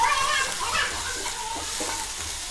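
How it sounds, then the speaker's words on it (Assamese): Chopped onions fry in hot oil with whole cumin and bay leaf for an egg curry, making a constant close sizzle and bubbling with occasional stirring scrapes. "পিয়াজখিনি মই ৰঙচুৱাকৈ ভাজি লম"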